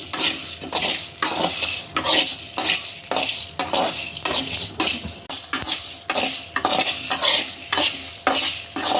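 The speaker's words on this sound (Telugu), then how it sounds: "ధనియాలు కూడా కొంచెం వేగితే చాలు" Coriander seeds and dried red chilies roasting in a pan, stirred with a utensil in a steady scraping rhythm over a constant dry sizzle, close and alone.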